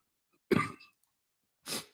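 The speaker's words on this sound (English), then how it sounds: "my cough is coming back" Two separate coughs, the first a harsh burst with a short tail, the second softer after a pause of about a second, close and otherwise quiet.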